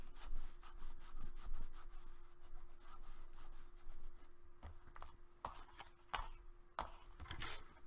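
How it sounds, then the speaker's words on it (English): A glued paper edge on chipboard is burnished by hand, giving close, quiet rubbing strokes in an irregular back-and-forth rhythm, with occasional sharper scrapes and no talk. "I'm going to go ahead and burnish that edge."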